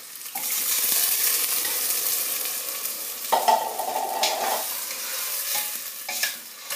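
Chopped tomato cooks in a smoked mackerel stew, giving a loud, close, steady sizzle with stirring scrapes and a few brief clanks against the pot, and no talking.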